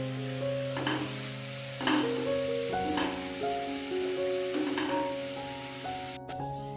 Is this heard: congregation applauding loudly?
no